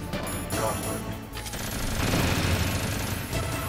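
A chaff launcher fires in the Metal Gear Solid video game, giving a dense, crackling burst of explosive noise that swells and carries on loudly for several seconds.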